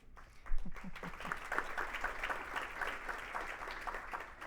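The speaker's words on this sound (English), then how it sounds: "Y'all jumped me on the applause there" Audience applause breaks out early during a speaker's introduction at an economic outlook keynote, a moderate crowd clapping that swells after a brief voice and continues steadily at middle distance.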